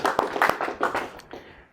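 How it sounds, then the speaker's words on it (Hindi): Audience members at a mind reader's stage show clap for themselves, a short burst of fairly close claps that gradually thins out and fades toward the end. "एक बार ज़ोरदार तालियां बजाइए अपने लिए।"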